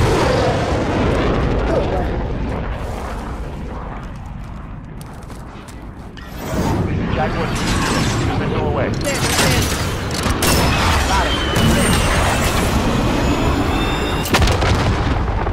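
VTOL airstrike in Call of Duty: Modern Warfare, heavy booming explosions and bursts of gunfire with mechanical creaks, rumbling low then erupting loudly midway, with voices talking over the battle.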